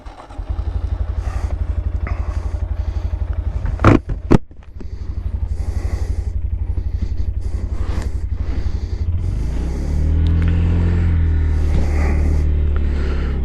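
A 2022-or-later Honda Grom motorcycle engine running steadily while riding on the road, a loud continuous buzzing drone with a brief clattering bump midway, then rising in pitch and strength as the bike accelerates.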